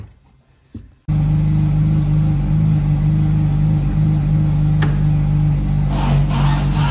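The engine of Goonzquad's manual-swapped Ferrari starts and runs with a loud, steady rumble as the car is driven, holding a constant tone under brief scraping noises.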